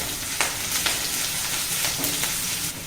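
Sliced onions fry in a pan for Indian Coffee House style masala dosa, giving a steady, dense, close sizzle with a few soft stirring scrapes and no one talking.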